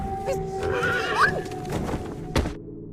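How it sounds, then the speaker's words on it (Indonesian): A frightened horse neighs loudly with a rising whinny, accompanied by faint hoof clip-clops and another sharp neigh near the end, in a forest-edge film scene. "Kuda mereka pun nampak ketakutan dan tidak bisa dikendalikan."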